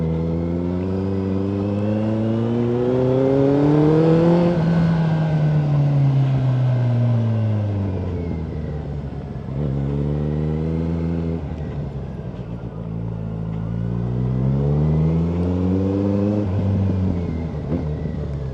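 A Kawasaki Z900 fitted with a Yoshimura exhaust, loud and close as it rides, the engine note rising through revs, dropping on shifts and pulling up again in smooth sweeping waves, with no talking.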